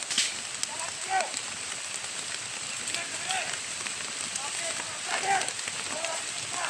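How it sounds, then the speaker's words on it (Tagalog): Steady heavy rain in a video game hisses and patters throughout, with occasional faint voices and small sounds underneath. "Lakas talaga ng ulan."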